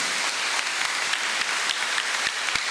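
A church congregation at a Sunday morning Mass for a choir's anniversary celebration applauds steadily and loudly, a dense wash of clapping with a few sharper individual claps standing out.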